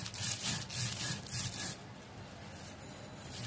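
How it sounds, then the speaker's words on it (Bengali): Bharta is mashed and ground by hand on a grinding stone, a close, rough, repeated rubbing and scraping that fades from louder strokes to a softer steady grind. "আমার ভর্তাটা বাটা হয়ে যাচ্ছে আস্তে আস্তে।"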